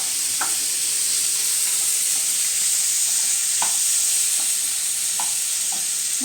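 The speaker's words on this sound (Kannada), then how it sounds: "ಇದನ್ನಿಷ್ಟನ್ನು ಫ್ರೈ ಮಾಡ್ಕೊಳ್ಬೇಕು." Poppy seeds and roasted gram frying in a pan for mushroom sambar produce a loud, even sizzle, punctuated by a few brief stirring taps and scrapes.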